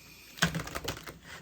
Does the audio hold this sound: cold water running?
no